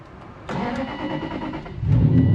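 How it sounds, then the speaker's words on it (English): An Aston Martin engine cranks briefly, then catches and roars to life, settling into a loud, rising rumble with no talking. "Anyways, she started."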